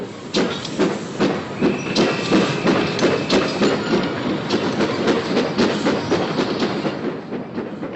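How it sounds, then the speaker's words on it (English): A train at a railway station platform, a loud steady rumble with rhythmic clickety-clack and hissing running throughout, close and continuous with no voices. "The 7:25 train for Littlehampton will leave platform"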